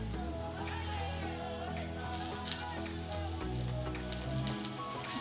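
Veg railway-style cutlets fry in a little oil in a pan until reddish, giving a steady, crackling sizzle. It runs continuously, with a tonal musical bed faintly underneath.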